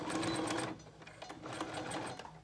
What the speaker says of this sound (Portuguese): Dobra, dobra e passa a costura